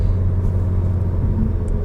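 Low, steady engine drone inside a 2015 Volkswagen GTI with an APR Stage 2 tune while driving, a loud continuous cabin rumble with no speech.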